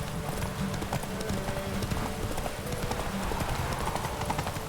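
Horse galloping in the video game The Witcher 3, a steady rapid clip-clop of hooves carrying on throughout, loud and close.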